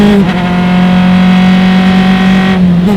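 A race car at an SCCA sprint race at Mid-Ohio roars steadily along the front straightaway. The engine drone is loud and continuous, holding a strong even pitch with a slight shift near the end.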